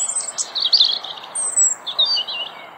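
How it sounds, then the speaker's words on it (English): A European robin sings in spring, a close, clear string of thin, high, wavering phrases with short pauses between them over faint background hiss. "European robins have a wistful touch to their song."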